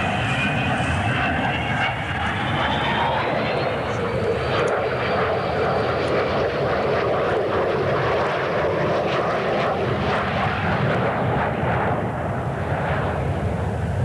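Avro Vulcan XM594 bomber arriving at an airfield after flying in ahead of closing weather, a loud sustained jet roar with a rising whine, steady and close throughout.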